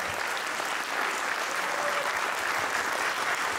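Dense, steady applause from a concert audience at a traditional music and folk instruments performance, holding at an even, loud level throughout with no break.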